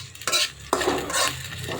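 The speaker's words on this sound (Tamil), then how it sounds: "வெண்டைக்காய் வந்து வதங்கிட்டு இருக்குது." Okra (vendakkai) sautés in a pan as a utensil stirs it, giving close scraping strokes in a few bursts over a soft sizzle.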